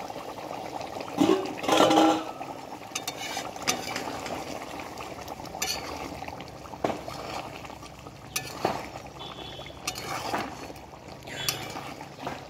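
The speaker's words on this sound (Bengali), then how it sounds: "চর্বিটা কত সুন্দর হয়ে ডুবডুব হয়ে রয়েছে" Pieces of fat boil in hot water in a covered pot, giving a steady close bubbling and churning with occasional louder gurgles and splashes throughout.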